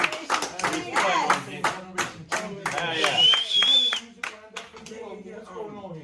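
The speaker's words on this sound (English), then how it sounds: "let's give a round of applause for my man" Clapping for a guest on a radio show, a few seconds of sharp, uneven hand claps close to the microphone, mixed with voices talking and a brief whistle-like tone, tapering off as speech continues.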